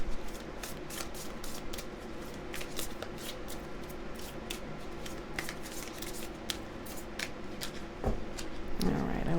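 A tarot or oracle deck being shuffled by hand: steady crisp riffles and card flicks at close range for several seconds, with a soft rustle near the end.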